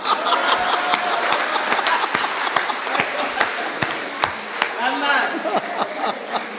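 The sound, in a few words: audience applause at a comedy show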